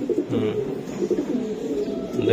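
A female racing pigeon at a loft that has already laid an egg gives low, throaty coos in repeated rolling bursts, close and moderately loud.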